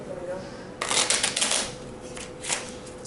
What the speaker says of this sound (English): If you shuffle a deck of cards